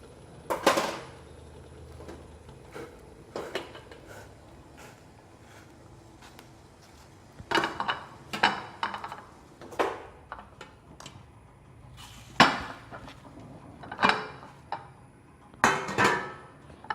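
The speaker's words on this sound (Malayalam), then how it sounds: "നമുക്കിത് ഒരു പാത്രത്തിലേക്ക് മാറ്റി കൊടുക്കാം" A spoon scrapes and clinks against a pot as a cooked banana dish is moved into a bowl. The sharp metallic knocks come in scattered bursts with quiet pauses between, close and fairly loud, with no talking.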